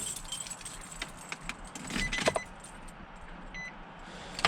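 Metal car keys jangle in a bunch as the ignition key is cycled on in a parked vehicle, giving several light clinks and rattles over a faint low background hum, with no engine running.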